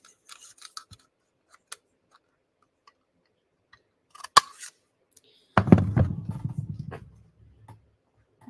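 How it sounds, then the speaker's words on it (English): Scissors trimming cardstock for a handmade heat-embossed, watercolor peony sympathy card. A few sharp, close snips come first, then a louder, denser burst of cutting and rustling near the end. "you can certainly just cut it with your scissors"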